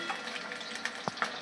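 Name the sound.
eggs frying in oil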